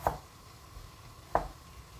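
A knife finely julienning ingredients for rice cake on a cutting board, two distinct chopping taps about a second apart, close and moderately loud with no talk.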